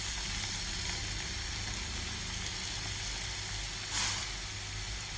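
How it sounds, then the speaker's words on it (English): A steady, loud sizzle of shallot slices frying in hot oil over high heat, constant hiss throughout with a brief swell near the end. "You can see the oil is boiling. Now add the shallot slices."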